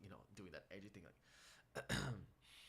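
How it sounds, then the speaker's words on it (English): A raspy throat clear bursts out near the end of a song, following a stretch of vocal sounds, close and fairly loud. "clearing my throat"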